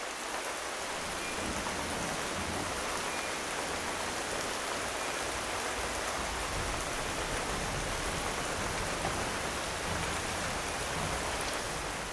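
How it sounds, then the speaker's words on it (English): Rain falls steadily through a forest in a stereo recording, a dense, even hiss of drops on leaves and ground that holds at a constant moderate level throughout, with no voices. "In stereo, the rain falls in a simple left-right field."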